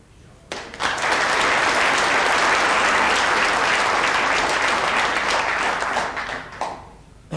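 Sustained applause from a snooker audience at the 1976 Ladbroke International, rising sharply and holding loud and dense for about six seconds before thinning out.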